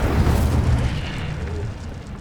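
An Incendio fire spell cast in Hogwarts Legacy erupts in a short, loud whooshing burst of flame that rumbles and fades over a couple of seconds.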